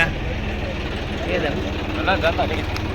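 A low, steady tractor engine rumble with a throbbing drone goes by close at hand on the route up Girnar hill, Junagadh, while people chat over it.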